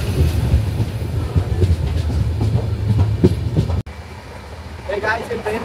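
The Secunderabad–Guntur Intercity Superfast Express (12706) rumbles steadily along the rails with a rhythmic clatter of wheels, loud and close, then the sound cuts and continues more quietly.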